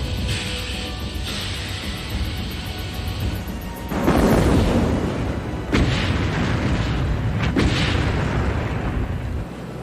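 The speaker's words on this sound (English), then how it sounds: "Two British merchant ships exploded and disappeared beneath the waves" Torpedoed British merchant ships explode in a wartime documentary sound effect: a rumbling background gives way to a heavy boom at about four seconds, then two further sharp blasts with rolling low rumble, loud and close, with no talk.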